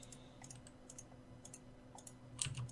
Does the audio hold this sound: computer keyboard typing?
yes